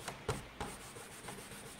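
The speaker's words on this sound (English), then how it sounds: "I'm using the 7/8 inch Essential Stencil brush" A 7/8 inch stencil brush rubs paint onto a wooden Christmas porch sign, giving soft, close dabbing and scrubbing strokes in a quick, uneven rhythm, quiet and without talking.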